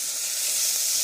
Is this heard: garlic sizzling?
yes